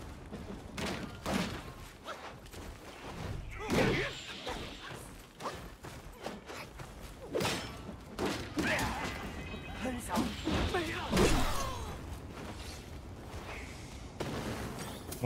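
Explosions strike the player again and again in Black Myth: Wukong, a series of booming crashes and thuds of varying loudness scattered across the stretch, mixed with a voice talking over the action.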